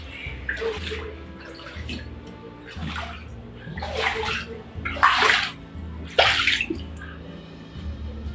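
Tap water left running indoors during flood conditions, a steady rushing stream with splashing surges that swell louder toward the end, with no talk over it.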